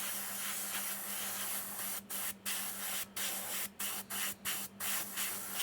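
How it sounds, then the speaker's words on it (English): Spray paint hisses from a can onto a sabertooth cat model, a loud continuous spray broken by several short pauses, close up with no talk. "Going a little bit over the areas I already sprayed."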